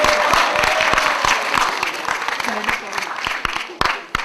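Audience applause at a live recitation, a burst of dense clapping that thins into scattered sharp claps.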